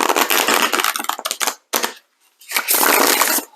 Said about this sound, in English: I'm shuffling the OSHO Zen Tarot.